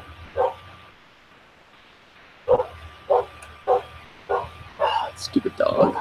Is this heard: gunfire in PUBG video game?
no